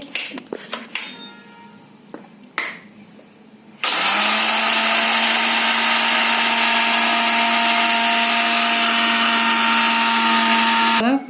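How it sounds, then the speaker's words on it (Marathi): A few light clicks and taps, then a mixer grinder switches on and grinds roasted peanuts with a loud, steady whirring hum until the end. "हे थंड झालं का मिक्सरमध्ये बारीक घेते करून"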